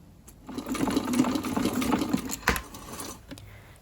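Sewing machine running steadily while stitching a zip into a vintage-style mini skirt of ecoprinted cotton, a close continuous mechanical whir lasting about three seconds before slowing and stopping.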